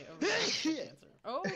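A person sneezes once during a casual livestream chat, a sharp burst followed by a shorter second one, close and fairly loud, with speech around it.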